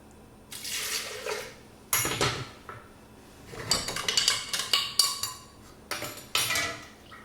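Water runs in bursts from a tap over a sink to rinse food, with clinks of dishes and utensils between the pours.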